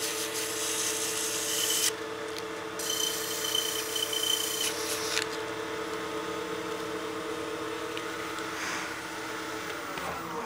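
Light sandpaper rubbing a soft holly wood birdhouse ornament spinning on a lathe, a continuous close rasping hiss with brief lifts and changes in pressure, no talking.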